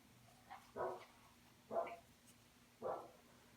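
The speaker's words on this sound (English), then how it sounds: "She's going to get on my nerves out there barking like that." A dog barks outside, three separate woofs spaced about a second apart, moderately distant over a quiet indoor background.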